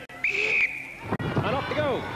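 Starting whistle for a dog race in a televised championship knockout event, one sharp steady blast, followed by a commentator talking.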